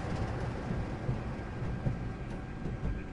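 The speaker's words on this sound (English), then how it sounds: "I'm going to stop the train and then turn around and go back to the refueling point" Train running on the East Coast Main Line in Train Simulator, a steady low rumble with faint rhythmic clatter throughout, no voices.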